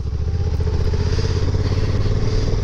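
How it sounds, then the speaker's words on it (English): The parallel twin engine of a 2022 Honda NT1100, with its 270-degree crank, gives a steady, throbbing V-twin-like rumble while riding, loud and continuous with light wind noise. "She sounds lovely with that parallel twin 270 degree crank, so you get that V-twin like sound from the engine there."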